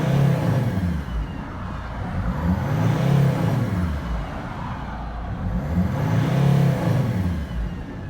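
A Mercedes Sprinter van engine revving repeatedly during a turbo actuator test, with a steady idle and rises and falls in pitch roughly every few seconds, heard up close with no talking.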